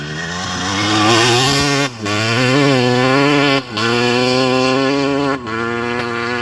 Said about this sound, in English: I love blasting it through the gears